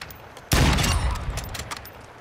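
Gunfire in a video game erupts suddenly after a brief quiet: a loud, sharp burst followed by a rapid, decaying spray of shots and echoing noise.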